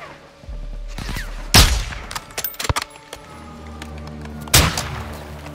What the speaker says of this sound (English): Laswell, we're taking ineffective fire from the cartel.